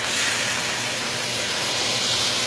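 Porterhouse steak stood on its fat edge in a hot pan, searing with a steady, loud hiss and sizzle that runs continuously without pauses.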